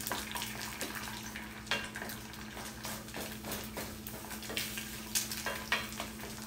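Eggs with broken yolks frying in a skillet, cooked omelet-style, giving a steady sizzle with periodic scraping and tapping of a utensil against the pan; no talking.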